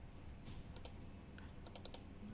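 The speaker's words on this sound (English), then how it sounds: "And keep clicking until you find CAD" Several crisp mouse clicks, single and in quick pairs, while working in Cadence design software on a computer; near and fairly quiet against a low background hum, with no talking.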